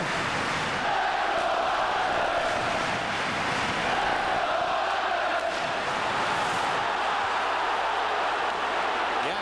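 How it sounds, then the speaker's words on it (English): Hockey arena crowd during an NHL playoff game, New York Islanders against Toronto Maple Leafs, giving a steady roaring cheer that swells and stays loud throughout, with a broad wash of many voices. "Lively crowd becomes even more lively again."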